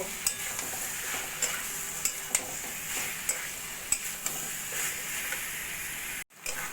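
Fried ivy gourd pieces stirred with spices in a pan, a quiet steady sizzle with regular light clicks of a spatula against the pan, then a brief cut to silence just before the end.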